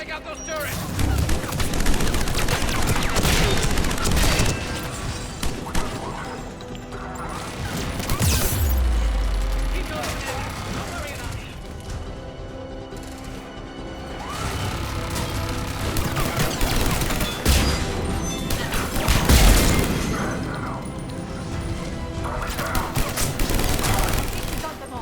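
Gunfire bursts and heavy turret fire from the video game Mass Effect 3, loud rapid volleys and booming impacts that keep coming in waves, with game dialogue and alert voices mixed in.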